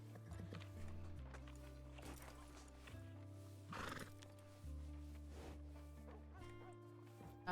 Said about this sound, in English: Was that buggy racing?